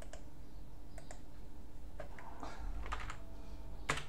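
Scattered keystrokes click on a computer keyboard as a command is typed into a terminal on Manjaro Linux Mate 17.0, a few taps at a time, close and fairly quiet over a low background hum.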